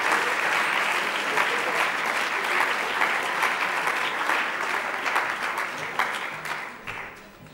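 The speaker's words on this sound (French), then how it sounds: "Je vais demander d'applaudir Charles Laroche." Sustained audience applause at an eloquence competition final, a dense, even wash of many hands clapping that holds steady for several seconds before tapering off at the end.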